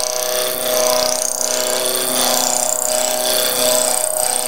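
A wood lathe spins a bottle stopper blank while a roughing gouge cuts it toward a straight cylinder: a continuous whirring drone with steady scraping and gentle periodic swells, close and alone.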